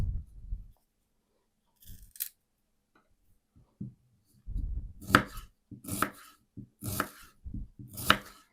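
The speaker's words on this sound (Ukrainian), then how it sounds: "Нарізаємо дрібненько цибулю." Onion being finely chopped with a knife on a board: near, crisp strikes in short irregular bursts with brief pauses between them. No voices.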